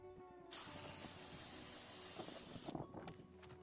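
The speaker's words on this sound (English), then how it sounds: "I'm using a 6mm drill bit as per the instructions." A power drill with a 6mm bit bores into a uPVC door with a steady, high whining buzz for about two seconds, then winds down, leaving a few light knocks.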